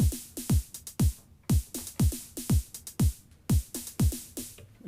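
A programmed drum pattern on a Roland JD-Xi synthesizer plays a looping sixteen-step beat of punchy electronic snare hits with deep thumping drum strikes. The crisp groove repeats steadily and alone, without talk.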